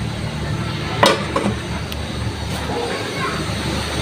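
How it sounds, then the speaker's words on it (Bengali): Water boils in a cooking pot of beef, giving a steady, close hissing bubble with a few brief clinks and knocks over it and a voice speaking in the background. "এটা পানি ফুটতেছে"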